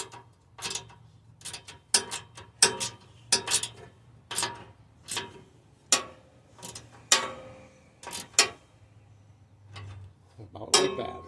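Shear bolts are snugged up on an Ariens Deluxe 24 snow blower, a series of sharp metallic ratchet clicks and clanks in an uneven rhythm, close up over a low hum.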